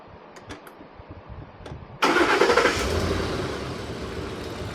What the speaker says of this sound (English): what we're listening for there is you want to listen for a really strong start, really strong crank